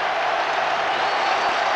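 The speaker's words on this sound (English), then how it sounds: "Tremendous ovation there from the Castleford crowd" Castleford rugby league crowd at a 1986 Challenge Cup match roaring and clapping in a sustained, dense ovation, a steady wall of broadband applause and cheering that holds at the same loud level throughout.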